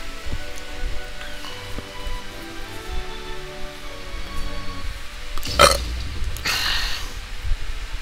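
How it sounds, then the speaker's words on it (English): One loud, abrupt human burp about midway, heard alone over a soft, steady background hiss with faint tones from a mobile fantasy RPG session. "Sorry, I'm burping."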